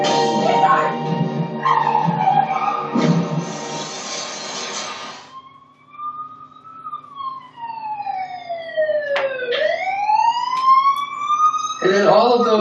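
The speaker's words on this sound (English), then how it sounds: "like that sound of that siren" An emergency siren wails and sweeps up and down in pitch, loud and close, with varied electronic tones and no talking.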